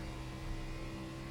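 Race car engine in iRacing on the Dover oval, holding a steady loud drone with a low rumble as the throttle comes on out of a corner; no talking.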